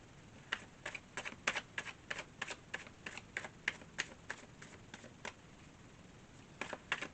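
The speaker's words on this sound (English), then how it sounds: "This is why I pause the video whenever I'm shuffling and waiting for cards to come in." Tarot cards being shuffled, a string of quick crisp riffling clicks and flicks in bursts, fairly faint and close, pausing briefly near the end, with no voices.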